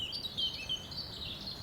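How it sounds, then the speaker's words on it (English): Birds sing in English woodland along a Balcombe walking track, blackcaps and wrens among them, as thin high warbling notes drifting faintly over a quiet background. "Plenty of blackcaps in the background,"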